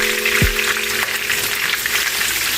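Browned oxtails sizzling in a pan as they are flipped, a steady close frying hiss with a brief low knock early on.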